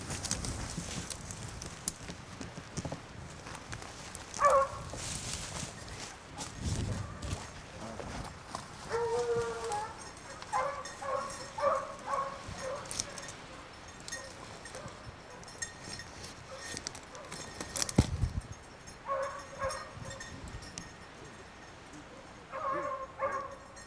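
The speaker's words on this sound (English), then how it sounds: "He used that different bark when he's on a rabbit." A hunting dog barking on a rabbit trail in Newfoundland: faint, far-off barks and yelps in scattered bursts over a low, steady outdoor background.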